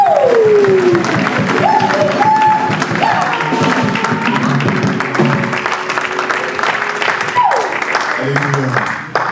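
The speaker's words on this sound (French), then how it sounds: "C'est pour ça que vous acclamez pour Jésus." A church congregation at a French-language worship service cheers and applauds loudly for Jesus, with dense clapping, shouts and rising whoops overlapping throughout.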